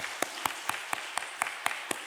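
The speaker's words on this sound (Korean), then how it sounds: "박수로 축복하겠습니다." A church congregation at a Sunday worship service claps in blessing for a first-time visitor, a slow, even beat of about eight claps at a regular pace, fairly clear and close.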